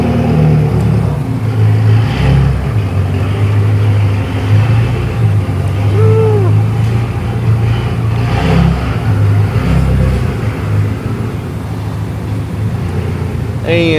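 A BMW F10 M5 rumbles and revs as it pulls away, its deep engine note rising and then fading under wind and background noise, with people talking nearby.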